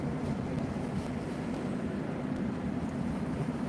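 A passing train heard as a steady, low rumbling drone with no distinct events, moderately loud and continuous, without talk over it.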